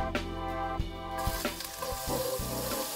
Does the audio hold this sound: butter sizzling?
yes